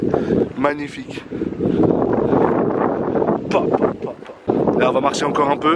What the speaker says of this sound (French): il y a un peu de vent, vous devez avoir du mal à m'entendre